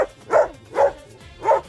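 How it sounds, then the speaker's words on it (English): A pet puppy barks four times in an even rhythm, each bark short, sharp and close, with brief quiet gaps between them. "here's our pup Rolo. Rolo is very territorial"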